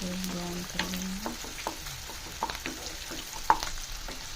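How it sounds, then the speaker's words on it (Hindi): Onions browning in oil in a pan give a steady, soft sizzle with occasional clinks and stirring scrapes, close and moderately quiet with no talking. "तेल डाल के प्याज को अच्छी तरह ब्राउन कर लेंगे"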